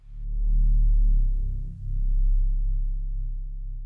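A subtle, low bass monster sound effect in a hybrid film cue: a deep, rumbling drone swells in, dips briefly, then rolls on steadily, dark and heavy with no voices.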